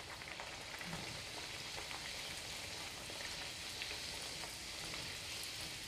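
Bhatura bread deep-fries in hot oil for chole bhature, giving a steady, fairly quiet bubbling sizzle with faint crackles that runs on alone, without talk.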